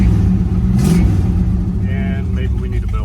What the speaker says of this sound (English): but the engine's running smooth.